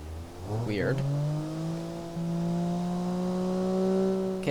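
A car engine revs hard in the Automation car-tycoon game, its steady rising harmonic whine climbing and then holding at high pitch for several seconds, loud and continuous with a brief gear-like shift near the start.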